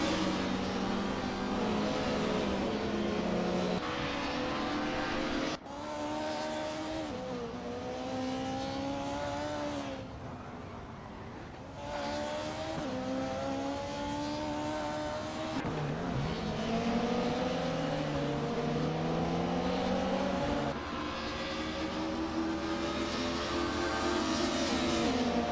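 Race cars in an AI-driven racing video game roar continuously, engines rising and falling through gear changes and passes, loud and close with no break.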